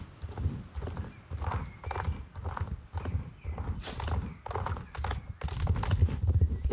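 Horse hooves clip-clopping in a steady, repeated rhythm, with a whinny partway through, from a horse named Wildpath ridden in the horse-riding video game Let's Ride; close and clear with no talk.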